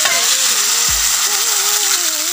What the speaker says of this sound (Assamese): এতিয়া ইয়াতে মই পানী দি দিছোঁ